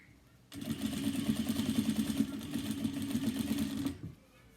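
Sewing machine stitching a cross-body bag along its edge with a back stitch, a close, steady motor whir with rapid needle clatter running for about three and a half seconds before stopping.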